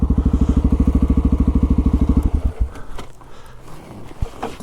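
A Honda XR650L motorcycle engine thumps in a loud, rapid, even single-cylinder rhythm close by, then cuts off into scattered clunks and rustling.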